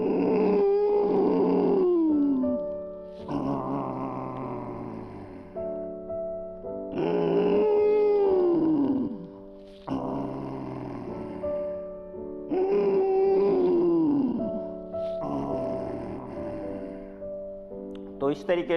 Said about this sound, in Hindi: बच्चे जैसे खर्राटे लेते हैं वैसे ही आपको खर्राटे के साथ आवाज़ करते हुए इसका अभ्यास करना है